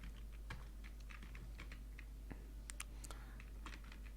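Code being written in a web page editor is typed on a computer keyboard: quick, light clicking keystrokes in uneven bursts over a low steady hum, faint and close, with no talking.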